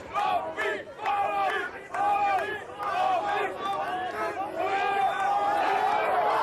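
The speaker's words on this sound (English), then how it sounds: "The crowd is shouting Ab on." At a World's Strongest Man competition in Hungary in 1988, a crowd of Dutch visitors shouts and chants loud support for a strongman, the rhythmic yelling continuous and dense throughout.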